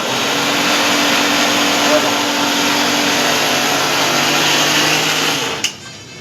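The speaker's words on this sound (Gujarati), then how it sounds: "જો ભાઈ લાડવા તૈયાર થઈ રહ્યા છે મિક્સરમાં મુઠીએ તળાઈને" An electric mixer grinder whirs loudly and steadily as it grinds fried dough pieces into laddoo mix, running without a break before the motor switches off near the end.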